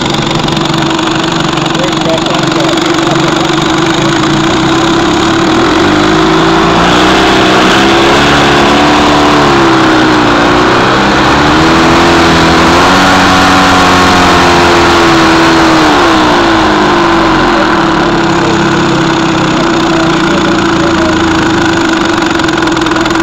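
A 1955 Johnson Seahorse 10 outboard motor idles as slowly as it will go, a loud, close, steady mechanical drone with a wavering pitch partway through, while people talk over it.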